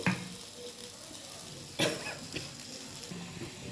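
Ridge gourd bharta gets stirred with raw mustard oil, producing a soft sizzle with a sharp scrape of the utensil against the pan partway through and light clinks after it.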